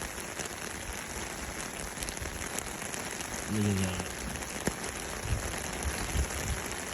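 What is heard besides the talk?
heavy rain pouring down while fishing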